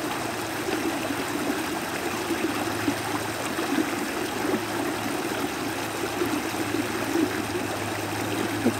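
Water trickles and babbles steadily along Sutter Creek, a continuous close stream flowing alone with no voices over it.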